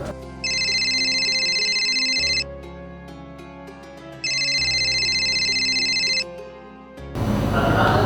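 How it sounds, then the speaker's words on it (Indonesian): Incoming telephone call: an electronic ringtone trills in two long, loud bursts with a pause between, over steady background music, cut off by a sudden burst of noise at the end. "kita dengar ada telepon masuk."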